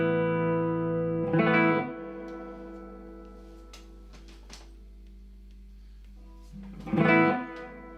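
An electric guitar plays through a Fender Deluxe Reverb reissue amp set between 3 and 4 with slight breakup. Two strummed chords ring out several seconds apart, with a soft low hum and faint string noise in between and no talk.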